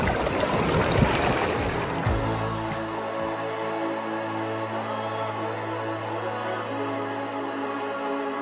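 Water flows steadily at a stream source along the Appalachian Trail, a soft continuous rushing and trickling that stays at an even, moderate level.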